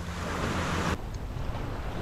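Ocean waves washing up on a fall beach while surf fishing, with baitfish churning in the surf; a loud, close rush of surf with wind noise and no talking.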